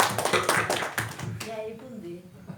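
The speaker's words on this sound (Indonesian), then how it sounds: "Tepuk tangan juga untuk Mas Anto." Indoor applause from a village council study-visit audience in Sumberejo, a burst of clapping that dies away after about a second and a half as voices continue faintly.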